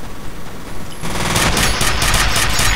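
Rapid automatic gunfire in the shooter game F.E.A.R. Combat on a refinery deathmatch map, loud dense bursts starting abruptly after a quieter lead-in and continuing without pause.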